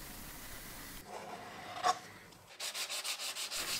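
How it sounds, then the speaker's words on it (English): Sandpaper rubbing over dried wood filler on a restored wooden butter churn, a soft scratchy rub followed by a quicker run of rhythmic back-and-forth strokes, close and fairly quiet with no talk. "after an hour we can come back and sand it down"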